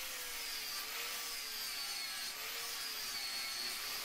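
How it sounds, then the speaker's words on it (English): An abrasive grinding disc tears a weld off metal during an electric lantern build. The grind is steady and harsh, with a constant whine, and runs loud and unbroken for the whole stretch. "It tears the weld off fairly quickly, but still gives a reasonably nice finish."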